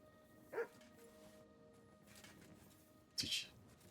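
Two short dog barks in Kingdom Come: Deliverance II, one near the start and one about three seconds later, each clear against a quiet game ambience, with no talk.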